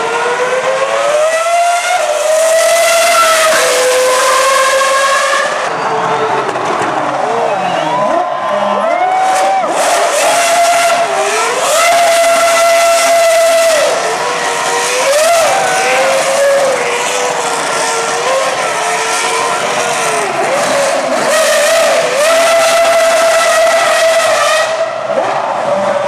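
A Formula 1 car lapping Kyalami circuit in Johannesburg at the Top Gear Festival: a loud, close, high-pitched engine scream that rises and falls through rapid gear changes, sustained for the whole stretch.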